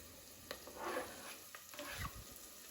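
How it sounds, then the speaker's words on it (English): Garlic added to a pan of spices over medium-low heat, giving a soft, low sizzle with a few stirring scrapes and clinks, fairly quiet and steady, heard alone. "In goes the garlic."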